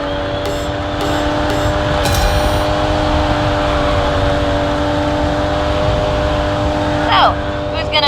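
Racing cars in a video game race: steady loud engine drone with sustained tonal hum throughout, a few brief sharp accents early and a quick whine near the end, under talk.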